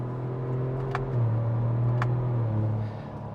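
A Chevrolet Colorado ZR2 truck accelerates with a strong low engine drone that rises and steps through gear changes, heard from inside the cab at moderate loudness.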